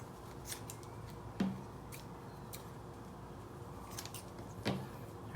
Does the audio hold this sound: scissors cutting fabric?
yes